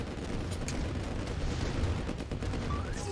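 Gunfire in Red Alert Remastered, a dense continuous rattle of shots and blasts layered with battle noise, steady and loud throughout with no clear gaps.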